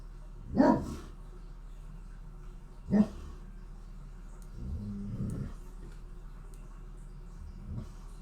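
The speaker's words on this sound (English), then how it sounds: "Again, sorry about the dog." A dog barks at a mailman from another room, two sharp distant barks followed later by a low grumbling growl and a faint final yip over a quiet hum.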